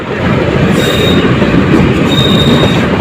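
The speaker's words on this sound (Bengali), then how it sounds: "এই যে ভৈরববাজার জংশন থেকে বেরিয়ে যাচ্ছে ট্রেনটি" Loud rumble and rhythmic clatter of a small local Surma Mail train rolling out of Bhairab Bazar Junction close by, with a high metallic squeal of wheels riding over the steady roar.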